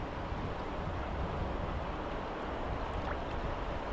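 Wind blowing beside a fast-flowing river, a steady, dense broadband rush that buffets the microphone without pause, with no voices.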